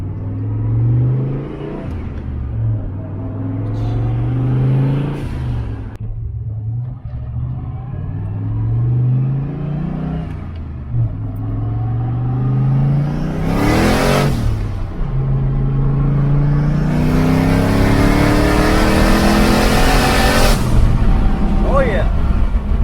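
A turbocharged Ford Fox body Mustang notchback idles with a loping, uneven rumble that swells and dips in waves, loud and close, while people talk over it.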